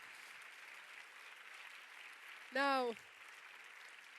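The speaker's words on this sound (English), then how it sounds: "Big round of applause for Sentimental Value." An audience applauds the film Sentimental Value, a steady wash of clapping filling the room, with a brief spoken word cutting in on top partway through.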